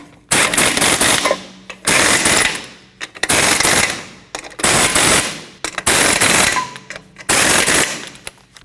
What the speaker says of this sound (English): Now you can tighten down all your lug nuts.